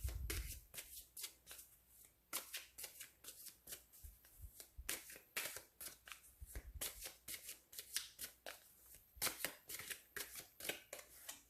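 Tarot cards shuffled by hand in quick repeated riffling bursts, close and crisp, with a steady rhythm and no speech.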